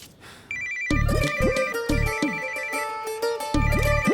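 A phone rings in repeated electronic ringtone bursts, a bright melodic tone pattern starting after a brief quiet moment, loud and close with no talking over it, in a Bollywood action mystery film.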